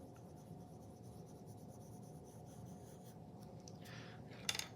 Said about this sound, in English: If I want to burnish with orange now, I'm gonna do some burnishing here